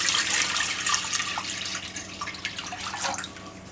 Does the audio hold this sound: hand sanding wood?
no